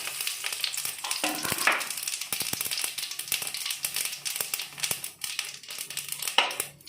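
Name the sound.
cumin seeds frying in hot ghee for tempering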